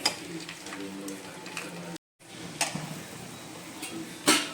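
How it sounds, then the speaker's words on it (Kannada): Garlic sizzles in hot oil over a medium flame for a tempering, a steady close crackle with a brief gap and a few sharp clinks of a spoon stirring in the pan. "ಬೆಳ್ಳುಳ್ಳಿ ಫ್ರೈ ಆಯಿತು"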